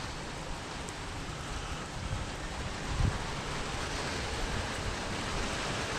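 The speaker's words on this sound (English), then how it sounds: "It's just dreary drizzle rain." Drizzling rain falls outdoors as a steady, broad hiss of soft noise, even and continuous, with a faint low thump partway through and no talking.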